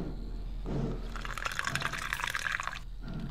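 Liquid poured from a bucket in the video game The Cat Lady, a bright splashing, dripping stream lasting about two seconds between quieter moments, with no talk.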